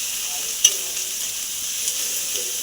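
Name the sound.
frying chili powder, turmeric and salt masala in oil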